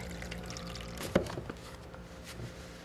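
Cold drinking water poured out for a steel-frame construction crew, a brief and fairly faint pour with one sharper splash midway over a low background hum.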